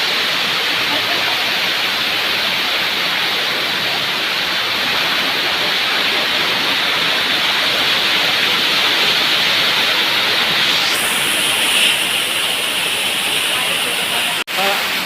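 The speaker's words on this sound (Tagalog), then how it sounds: "Back to the waterfall." Waterfall inside Lobo Cave in Jiabong, Samar: a constant, loud rushing roar of falling water fills the space, steady and unbroken from start to finish.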